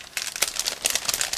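A separate plastic bag of clear parts from an ICM 1/24 Type AG 1910 Paris Taxi model kit crinkles close up, a continuous rustling with sharp crackles as it is handled.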